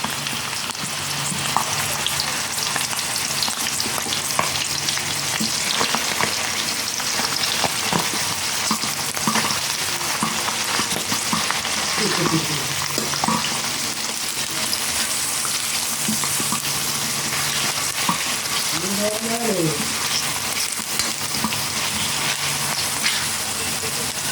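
Chicken pieces sizzle and crackle loudly in a hot pan for chicken pastil, a dense steady fry with occasional scraping stirs, and faint voices murmur beneath the hiss.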